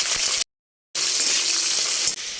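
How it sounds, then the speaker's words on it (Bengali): Prawns sizzle and spit in hot oil in a pan, a loud steady frying hiss broken by a brief silent gap. "তেলের মধ্যে চিংড়ি মাছটা দিয়ে ভেজে নেবে"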